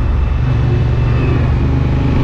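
A Honda XL750 Transalp 2023 adventure motorcycle pulls away, its engine a loud, close, steady rumble rising slightly under throttle with no break.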